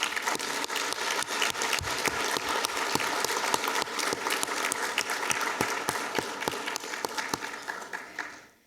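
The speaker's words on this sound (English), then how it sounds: "Please join me in a round of applause for Dr. Gent." Audience at a government conference opening ceremony giving sustained applause, many hands clapping steadily at moderate distance with sharp individual claps standing out, fading away at the end.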